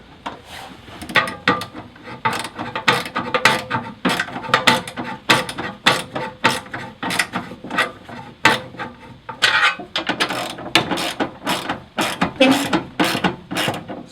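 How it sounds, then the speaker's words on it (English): Self-tapping bolts are tightened on a Land Rover Defender cubby box with a ratcheting tool, giving rapid, close clicking in steady bursts with short pauses. "All I've got to do is just nip them up and make sure that everything's nice and secure."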